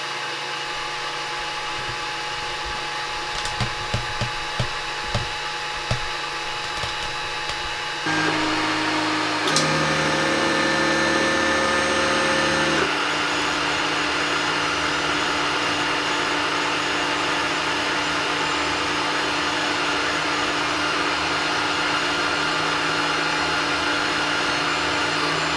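A 3D printer heats up and prints a gauge case, giving a steady mechanical whir with fan noise, a short louder whining stretch partway through, then continuous motor hum to the end.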